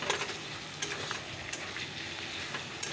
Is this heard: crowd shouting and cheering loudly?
no